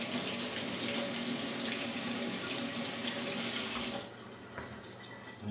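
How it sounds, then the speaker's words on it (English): Tap water runs steadily into a sink to rinse mold off an onion, a broad continuous splashing rush that stops abruptly near the end, leaving quieter room sound with a few small knocks. "That one I'm going to rinse off."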